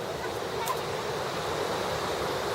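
Black Sea surf breaks on the shore at Lazarevskoye near Sochi, a steady close wash of waves and wind noise filling the short stretch without any voices.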